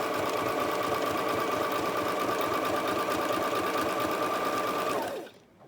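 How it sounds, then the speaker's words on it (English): A sewing machine stitches fabric for a ribbon skirt applique in one steady, fast mechanical whir, close and continuous, stopping abruptly near the end. "once I pivot, I'm gonna continue to sew again"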